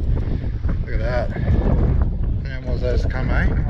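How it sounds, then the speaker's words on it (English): Gusty wind buffets the microphone out on Sydney Harbour while fishing, a loud low rumble that rises and falls while people talk over it. "It's a bit windy"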